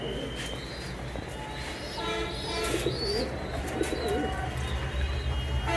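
Fancy Danish pigeon chicks and adult pigeons coo softly in a loft, with low murmuring calls repeating over steady background noise and a faint distant rumble.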